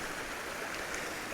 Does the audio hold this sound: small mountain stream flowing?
yes